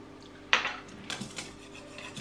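A spoon scrapes and clinks against a bowl while chocolate cream for baking is mixed, one sharp knock followed by a few softer rubbing strokes, close and fairly quiet.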